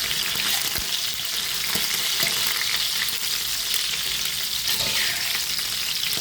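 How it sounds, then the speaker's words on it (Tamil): Curry leaves stirred into fish frying in a pan give a loud, steady sizzle that fills the whole stretch, with faint scrapes of stirring in it and no voices. "இப்போ வந்து கொஞ்சமாக கருவேப்பிலை போட்டு வடிவாக கலந்து விடுவோம்."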